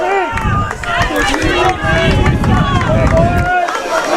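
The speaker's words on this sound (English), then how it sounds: "You can hear the crowd going. The crowd is going wild." Rugby match crowd at DRFC cheering and shouting loudly and continuously, a dense roar of many voices close around, with individual yells rising above the din.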